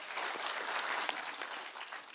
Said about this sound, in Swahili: Makofi tena.